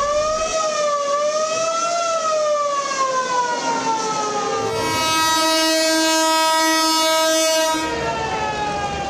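A crowded passenger train bound homeward for Eid sounds its horn in long, loud, wavering blasts that shift into a steady, bright horn tone near the end, with no talk.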